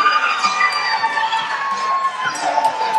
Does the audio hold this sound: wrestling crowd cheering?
yes